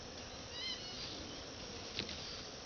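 A honeybee swarm being captured into a hive gives off a faint, steady buzzing hum, with a few louder passes of single bees flying near.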